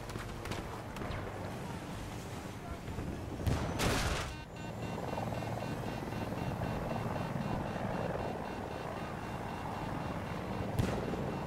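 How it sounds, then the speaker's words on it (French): Helicopter flying in the video game Battlefield 2042, a continuous rotor and engine drone that holds steady throughout, with a few sharp bursts like nearby gunfire or impacts breaking in. "Donc là, je me suis amusé à prendre un hélico"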